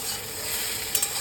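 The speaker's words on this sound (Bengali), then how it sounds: "এবার মাছটা, ভাজা মাছটা এটার সঙ্গে মিলিয়ে একটু নেড়ে চেড়ে নামিয়ে দেবো।" Fried fish being stirred together with fried eggplant, potato and onion in a pan, a brief steady sizzle with two quick scrape-like clicks near the end.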